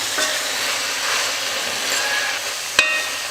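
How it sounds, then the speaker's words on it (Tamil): Masala with salt and turmeric sizzles steadily as it is sautéed in a pan for a mango and brinjal curry, a close, even hiss of frying with one brief sharp clack of utensil against pan near the end and no talking. "மசாலா சேர்த்ததுக்கப்புறம் நல்லா வதக்கிக்கலாம்."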